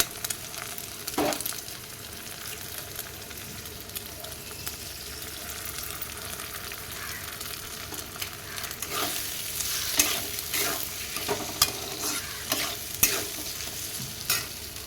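An egg fries in a pan with a constant sizzle, while scraping stir strokes sound intermittently, close and fairly loud.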